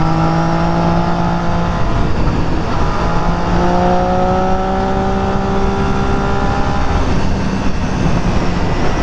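Yamaha FZ-07 motorcycle on a group ride, engine droning steadily with rising and falling tones through shifts and rolling throttle, heavy wind rush over everything and no talking.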